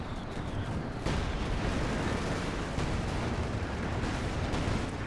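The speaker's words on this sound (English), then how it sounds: "No, it's the Major's artillery." Artillery barrage called in by the Major in Company of Heroes 2, a dense, continuous rumble of explosions and gunfire with a heavier burst near the start, steady and loud throughout with no talk.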